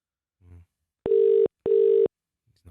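A phone line rings out with two matching electronic tones in quick succession, loud and clear, with brief snatches of a voice just before and after.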